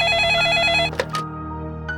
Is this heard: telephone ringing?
yes